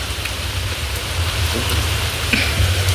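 Heavy rain falls in a steady, dense wash, close and loud throughout with no voices.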